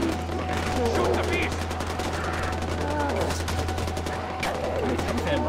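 Rapid gunfire in the first-person shooter Far Cry 4, repeated fast bursts of shots over a steady low hum, loud and continuous across the whole stretch.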